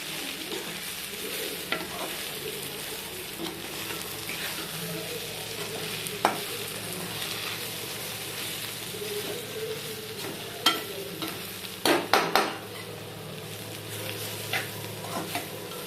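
Brinjal fry being stirred in a pan on the stove for a village-style vankaya fry, with soft scraping and faint sizzling under a few sharper spoon knocks against the pan, no talking.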